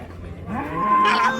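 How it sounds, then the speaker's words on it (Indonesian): A single Limousin cow moos nearby at a livestock market, a long low bellow rising in pitch, with faint background crowd noise. "Bener-bener banyak sekali sapi jumbo hari ini."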